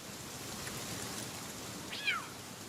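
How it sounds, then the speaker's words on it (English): A cat-like creature in the video game Palworld gives a single short, faint meow near the end over a quiet background hiss. "Meow."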